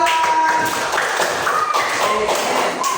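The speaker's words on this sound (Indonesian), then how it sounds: "tepuk tangan untuk kelompok 2" A class of students applauds group 2 during a multiplication lesson, with steady, dense clapping from many hands at close range filling the full three seconds.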